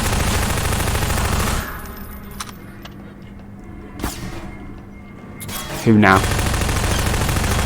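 Rapid bursts of SMG gunfire from the video game Half-Life 2: a loud, dense volley at the start, quieter movement and brief talk in the middle, then another sustained burst of automatic fire at the end.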